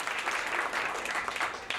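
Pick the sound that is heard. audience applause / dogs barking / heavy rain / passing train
audience applause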